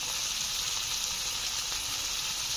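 Green chilli paste sizzling in a hot pan, a steady close frying hiss that continues without a break and with no talk.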